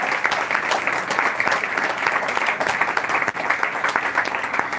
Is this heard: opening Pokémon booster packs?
no